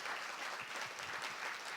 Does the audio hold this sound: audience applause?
yes